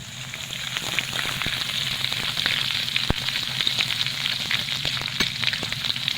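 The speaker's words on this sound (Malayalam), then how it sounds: "അതിലേക്ക് നമ്മുടെ ഇഞ്ചിയും വെളുത്തുള്ളിയും കൂടി അരിഞ്ഞ് വെച്ചത്" Chopped ginger and garlic fry in hot oil for a gooseberry pickle, giving a loud, continuous sizzle dense with sharp crackles and pops from start to finish.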